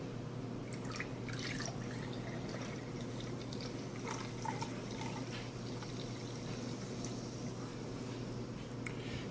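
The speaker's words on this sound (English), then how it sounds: "Pour it in our glass and see how well" Homebrewed chocolate kvass beer poured into a glass, a soft continuous trickle and drip of fizzy liquid, close but faint beneath a steady low hum, with no talking.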